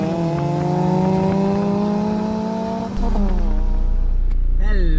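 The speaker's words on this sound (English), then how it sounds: "it is that easy to start the car after 1 week" A Proton Satria 1.6 SOHC engine runs just after starting, a steady loud hum with a pitch shift and a deeper rumble joining partway, then a revving wobble near the end.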